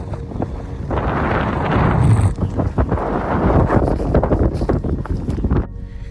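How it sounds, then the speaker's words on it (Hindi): Strong, gusty wind at Trimbakeshwar roars continuously across the microphone, a loud, steady rush with buffeting surges and no talking. "भाई इतनी भयंकर तेज हवा चल रही है ना यहाँ पे।"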